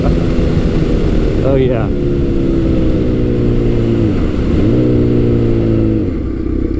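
Kawasaki Z900 motorcycle engine revving up through the gears, a loud, close rising drone that dips at each shift and climbs again, with a brief spoken exclamation over it.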